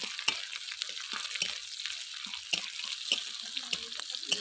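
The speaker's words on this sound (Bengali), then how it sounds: "কাঁচা লঙ্কা পেঁয়াজটা ভালো করে লাল করে নেব" Onion and green chili frying in a pan, a soft steady sizzle broken by frequent stirring clicks and scrapes.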